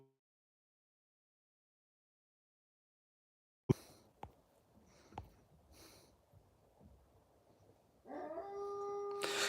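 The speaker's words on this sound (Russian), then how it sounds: "это фурия воет" Silence, then close sniffing and soft clicks, followed by a dog starting a drawn-out, wavering howl that carries on to the end.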